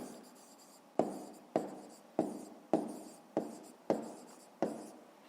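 A pen or marker writes out a fifth-grade math exercise on paper in seven evenly spaced, sharp strokes, each tapering off quickly. The writing is close and quiet, with no talking.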